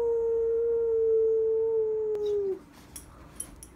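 A dog gives one long, steady howl that holds a sustained tone for about two and a half seconds before dropping off, followed by quiet room noise.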